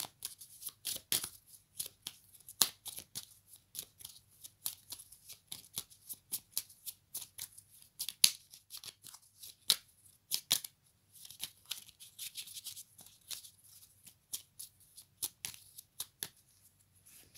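An oracle card deck is shuffled and cut by hand. Soft, quiet papery riffles and taps come in irregular bursts throughout, with no talk.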